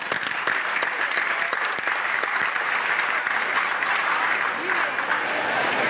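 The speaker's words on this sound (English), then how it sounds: "Stevens and Greg Roll of Clark Construction, I want everyone to give them a grand applause because they made this happen." A crowd applauds the construction crew at the opening of a new Giant grocery store in Shaw, Washington DC, with dense, steady clapping that holds at an even level throughout and faint voices mixed into the noise.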